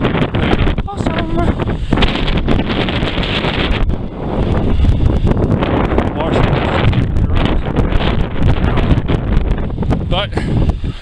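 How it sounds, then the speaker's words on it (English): Strong wind buffeting the microphone at the tree line on Mount Washington, New Hampshire, loud continuous roaring gusts with a brief lull, a voice speaking faintly beneath. "As you can see, rather windy."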